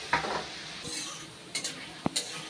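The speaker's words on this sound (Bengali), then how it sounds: "এই একইভাবে কিন্তু আমি বাকি আলুগুলোকেও ভেজে নেব।" Shredded potatoes frying in a pan give a low, steady sizzle broken by a few sharp scrapes and clinks of a stirring utensil, close by.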